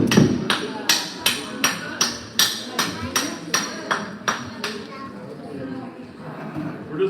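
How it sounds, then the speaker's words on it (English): A masonry hammer strikes a geode about a dozen times in a steady rhythm of sharp, ringing cracks, close and loud, before the blows stop. "This is a masonry hammer."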